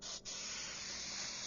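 Black spray paint hisses from an aerosol can in a steady close spray during a test before a repair, with one brief break near the start and no talk.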